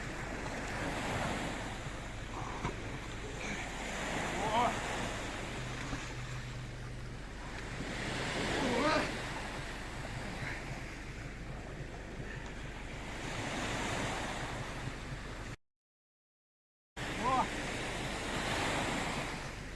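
Steady surf of the Sea of Azov washing ashore at Yalta village with a constant wind rumble, swells rising now and then, and a short dropout near the end.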